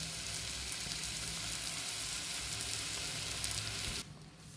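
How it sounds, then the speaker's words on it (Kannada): Cooked rice being stirred into frying masala on a hot tawa for tawa pulao: a steady close sizzle with faint scraping, quieter and ending abruptly near the close, no voices. "ಅನ್ನ ಉದುರುದ್ರಾಗಿ ಮಾಡಿಟ್ಕೊಂಡಿದ್ದೀನಿ, ಅದನ್ನು ಹಾಕಿ ಮಿಕ್ಸ್ ಮಾಡ್ಕೊತೀನಿ."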